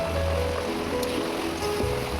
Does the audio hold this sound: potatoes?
yes